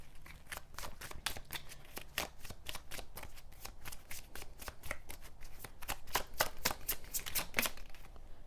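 Oracle cards are shuffled by hand in a long run of crisp, rapid riffling bursts, close and clear with no one speaking.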